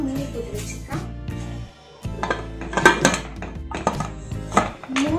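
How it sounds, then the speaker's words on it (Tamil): A metal lid clatters onto a pot of spicy chicken biryani, with several clinks and knocks of cookware close by and a voice talking over them. "இப்போ வந்து நம்ம இதை மூடி போட்டு வச்சுக்கலாம்"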